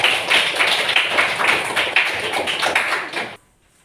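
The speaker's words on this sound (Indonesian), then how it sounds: "Tepuk tangan untuk kelompok 4." Classroom of ninth-grade pupils clapping for a group, a loud, fast flurry of many hands that carries on steadily before cutting off abruptly near the end.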